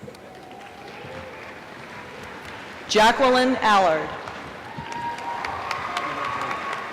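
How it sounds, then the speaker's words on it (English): Audience applause at a Rhode Island College baccalaureate graduation ceremony, a soft, steady patter of clapping in a large hall that continues beneath a name read aloud over a loudspeaker. "the audience is invited to applaud our candidates"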